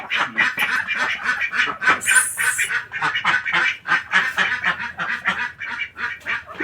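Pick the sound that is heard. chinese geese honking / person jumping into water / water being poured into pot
chinese geese honking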